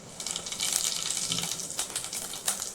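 Cumin seeds sizzling in hot oil in a pan at the start of a Bhimavaram-style crab curry, a steady bright crackling hiss with small popping bursts running throughout, close and fairly loud with no talking.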